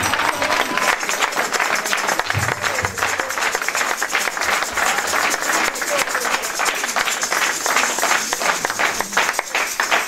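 A church congregation claps and applauds the Lord, with sustained, dense applause and cheering that carries on throughout while voices sound over it.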